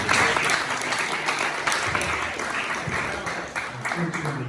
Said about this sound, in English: So can we give this brother a round of applause?